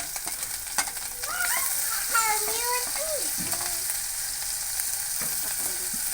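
Ginger, garlic and onion frying in oil, a steady close sizzle with stirring scrapes over it and a few faint squeaky tones in the background.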